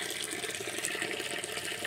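Water pours into a Bestway Steel Pro above-ground swimming pool in a steady, continuous hiss of filling, moderately faint and unbroken throughout.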